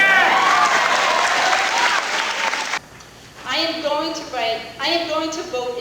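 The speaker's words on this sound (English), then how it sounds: "Thunderous applause." A large audience claps loudly and steadily at a public hearing for a few seconds, then the applause cuts off and a single voice speaks clearly over the quieter room.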